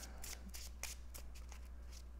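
A deck of cards for a Spider-Man card game being shuffled close up, a quick run of crisp riffling bursts over a low steady hum.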